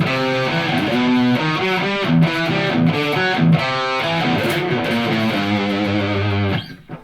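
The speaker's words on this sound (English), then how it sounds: "So we'll take that reverb off again, play the same riff." An electric guitar riff plays through a Blackstar HT Club 40 amplifier on its overdrive voice with no reverb, distorted chords ringing loud and close, then cutting off dry at the end.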